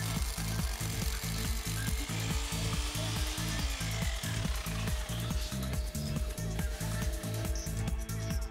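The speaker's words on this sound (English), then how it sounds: "Drill vertically and take care of the depth." Hammer drill boring vertical holes into a concrete floor for the anchor bolts of a two-post car lift, a steady rapid percussive pounding with grinding, loud and close throughout without pauses.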